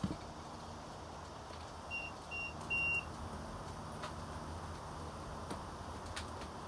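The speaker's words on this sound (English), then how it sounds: "We're gonna set it on continuity." An ohm meter set to continuity gives several short electronic beeps while an LS3 L99 stand-alone wiring harness is being tested, three quick tones in a row over a quiet room hum, with no talking.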